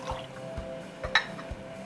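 Homemade apple juice, chilled for hours, pouring from a container into a cup, a soft close trickle with a few light drips and clinks.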